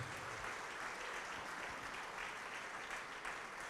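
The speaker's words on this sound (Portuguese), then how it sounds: "E vamos aplaudir mais ao nome de Jesus" A church congregation applauds at a worship service, a faint, steady wash of clapping that stays even from start to finish.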